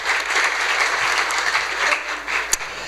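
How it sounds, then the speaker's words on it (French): A dense burst of audience applause fills a presentation hall at an open-innovation hackathon, many hands clapping steadily at close range. "On peut l'applaudir bien fort s'il vous plaît."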